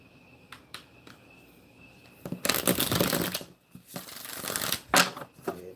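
Tarot cards are shuffled up close for a reading: a few light taps, then a long riffling burst and another shorter riffle, with a faint steady tone in the background.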